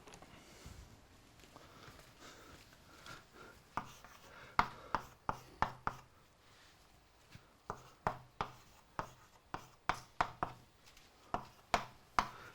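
Chalk tapping and scraping across a blackboard during a lecture, a series of sharp, irregular clicks and short strokes that grow more frequent toward the end, fairly close and alone.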